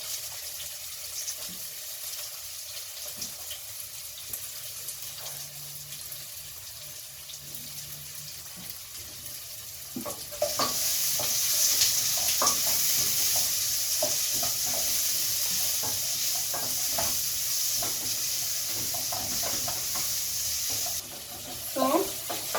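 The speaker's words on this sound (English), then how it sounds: "I'm going to add my onions." Onions go into a hot sufuria with oil. A low quiet background is followed by a loud, bright, steady sizzle that starts partway through and keeps going, with occasional stirring clicks. No one speaks.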